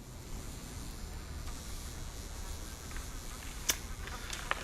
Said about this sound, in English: You hear the flies buzzing.